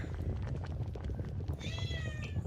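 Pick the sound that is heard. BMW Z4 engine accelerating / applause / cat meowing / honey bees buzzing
cat meowing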